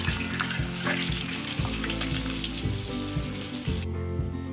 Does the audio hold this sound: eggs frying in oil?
yes